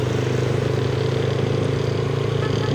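A motorcycle rides along a road on a trip, its engine droning steadily and close with wind noise and rough road clatter throughout.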